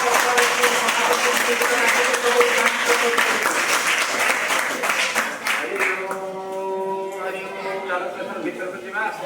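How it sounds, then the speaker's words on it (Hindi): Audience at a school-level language, literature and creativity festival at a government high school in Suramani, Ganjam claps steadily and loudly, the applause fading after a few seconds as voices and sustained tones take over. "समस्त टिके करताली देवा"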